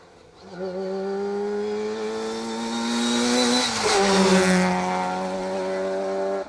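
Wide-arch Nissan Micra rally car, number 102, competing in the Micra Challenge on a 2023 Down Rally stage, builds in loudness from a distance, then rushes past close by with a clear pitch drop and holds a strong engine drone as it departs.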